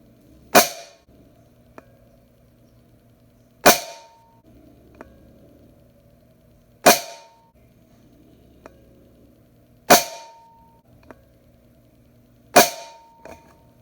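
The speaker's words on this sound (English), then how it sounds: "Up first is the Crossman Premiers from the tin, and we'll be shooting at 20 yards" Benjamin Marauder air pistol firing Crosman Premier pellets at a 20-yard target: five sharp, loud pops spaced about three seconds apart, each followed a moment later by a faint tick of the pellet striking, with quiet between shots.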